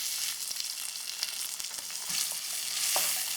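Tomatoes and onions fry together in a pan for a parotta-shop style salna gravy, giving a close, continuous sizzling hiss with occasional crackles and stirring scrapes, no voices present.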